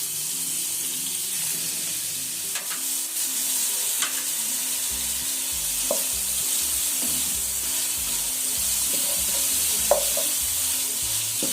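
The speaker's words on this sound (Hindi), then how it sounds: "इसको अच्छे से मिक्स करते हैं।" Chicken seasoned with salt and black pepper is stirred in a hot pan: a constant sizzle with irregular scraping and clinking stirs up close, no voices.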